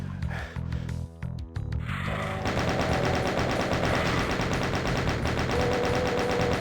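Rapid chaingun fire from a chaingunner enemy in the Doom game, a dense, steady, loud mechanical burst running almost continuously after a brief choppy start, with no talk over it.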